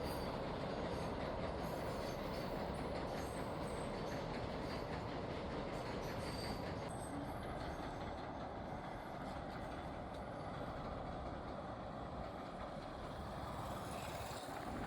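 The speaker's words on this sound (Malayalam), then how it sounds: "പാലത്തിൽ കൂടെ ഒരു ട്രെയിൻ പോകുന്നത് കണ്ടു." A train crosses the Pamban bridge at Rameswaram, a steady, fairly faint rumbling clatter of wheels and wagons that continues without a break and without voices.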